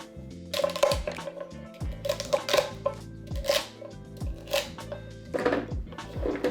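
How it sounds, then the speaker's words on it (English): Celery stalks are roughly chopped on a cutting board for homemade chicken stock. A knife lands in an irregular series of close, crisp thuds with a squeaky crunch, and no one talks. "I'm gonna give these a quick rough chop."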